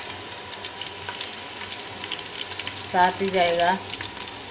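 A paste of garlic, ginger and green chili sizzles in a pan with browned fried onions, a steady frying hiss under brief speech with a louder stirring burst.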